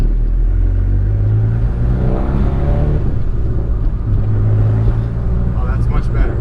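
A turbocharged Honda Accord on the street accelerates with a steady, loud cabin-heard engine drone and rising boost tone, while voices talk over the rumble.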